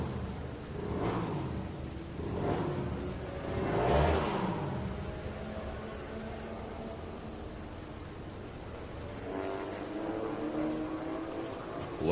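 Road racing motorcycles at a national vintage roadrace series pass one after another on a wet track, each rising and fading engine sweep heard at a distance amid steady background hiss.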